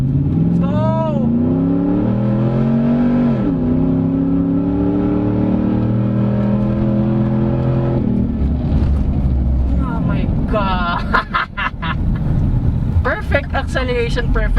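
A 2012 Ford F-150 SVT Raptor V8 pickup accelerating through city streets, its engine note climbing steadily in pitch over several seconds, loud and close, with a person talking over it.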